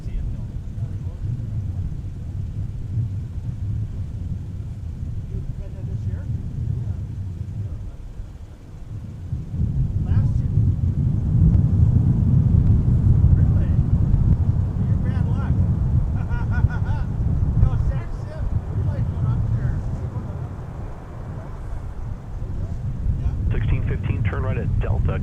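Delta airliner rolling for takeoff on runway 30 right at Minneapolis–St. Paul Airport, a deep distant engine rumble that swells and stays loud, with faint radio chatter and other noise layered over it.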